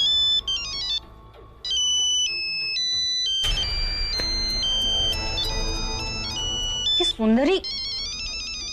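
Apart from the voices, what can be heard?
mobile phone ringtone of incoming call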